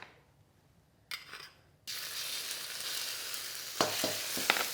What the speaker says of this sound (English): I'm going to start by frying off my paste